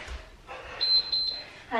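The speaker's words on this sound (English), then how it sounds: "We'll wait for that beep." An interval timer beeps during a kettlebell or resistance band workout: a steady high electronic tone sounds twice in quick succession, with a short break between, over faint room noise and light breathing.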